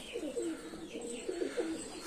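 Pigeons coo softly in low, throaty bursts, repeating in an uneven rhythm against a faint background hum.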